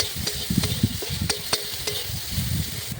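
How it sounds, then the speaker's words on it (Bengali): Prawns frying in hot oil in a home kitchen, a steady crackling sizzle broken by repeated scraping stirs of a spatula, close and fairly loud with no talking. "এবার আমি চিংড়ি মাছটা ভেজে তুলে নেব।"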